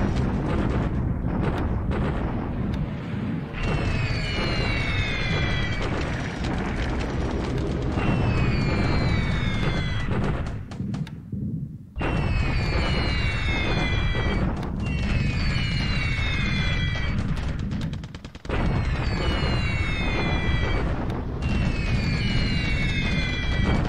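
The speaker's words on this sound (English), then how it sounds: "A lot of unescorted bombing raids coming in here that we can't really do much about." Bombing raid explosions in the War in the Pacific game, a long run of loud booming blasts and rumbling bursts repeating in waves, with a brief quiet gap midway and no talking.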